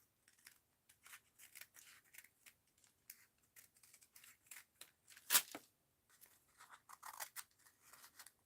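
Scissors snipping through paper in a mixed-media art journal session, a quiet run of short, irregular cuts with one sharper louder snip midway, close and without talk.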